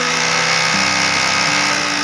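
A hammer drill machine bores 8 mm holes for fitting a homemade wood and bamboo door, a loud continuous whirring grind with slight pitch shifts and no voices.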